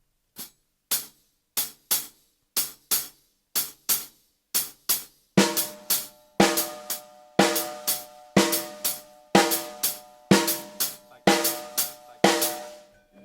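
Drum kit playing a shuffle groove with the left hand on hi-hat, sparse crisp hits at first and then fuller kit strokes with ringing cymbals in a steady repeating pattern, alone and close.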